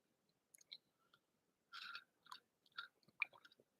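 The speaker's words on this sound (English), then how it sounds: "Sorry about the swallowing." Someone chews and swallows right up against a microphone, with soft wet mouth clicks and a few crunchy bites in an irregular rhythm, close and quiet with no talk.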